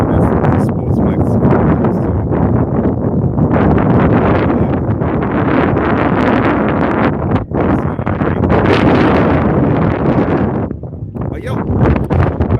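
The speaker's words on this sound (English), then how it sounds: "Pardon the wind, man. It's very windy." Strong gusts batter a microphone outdoors at a sports field, making a continuous heavy rumbling buffet that swells and dips throughout, loud and close.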